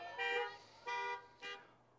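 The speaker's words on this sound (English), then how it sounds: "Honk when you get it, or honk if you have it memorized." Car horns honk at an outdoor church service: three short, separate honks, fairly faint and distant.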